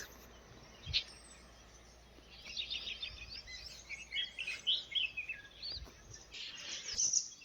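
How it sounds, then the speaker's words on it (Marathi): Several birds chirp and call in short bursts against a quiet outdoor background near a dried-up river in the Konkan, with a few faint thumps nearby. "पक्ष्यांचा आवाज"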